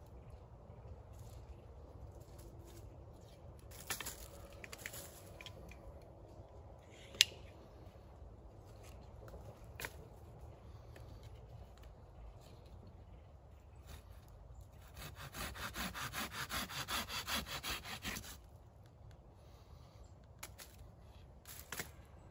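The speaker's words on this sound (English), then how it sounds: "I'm going to go ahead and cut the tip off of this bow." Rough sawing or cutting of a sourwood bow tip outdoors in the woods, a faint scraping rasp with scattered clicks that swells into a denser burst of rapid strokes near the end.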